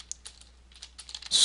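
Quick keystrokes on a computer keyboard while code is typed, a sparse run of light clicks building to a denser, louder burst at the end, close and alone with a low steady hum beneath.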